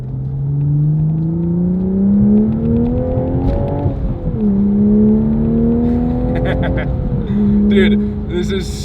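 A manual Mk5 Toyota Supra with a catback exhaust pulls hard from inside the cabin, its engine note climbing steadily through one gear, dipping at a shift, then rising again, loud and continuous with voices talking over it.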